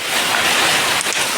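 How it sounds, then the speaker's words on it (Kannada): Hail falling steadily outdoors, a dense, loud, continuous patter of ice striking surfaces with no talking. "ಸೀಟಿನ ಮೇಲೆ ಹೆಂಗ್ ಕಾಣ್ತೈತೆ ನೋಡ್ರಿ ಆಲಿಕಲ್ ಬೀಳೋದು ನೋಡ್ರಿ"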